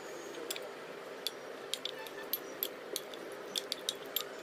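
Light metallic clicks and taps of a spoon scooping orange peel powder for a homemade face pack, a dozen or so sharp ticks in irregular rhythm, close and fairly quiet over a soft background hiss.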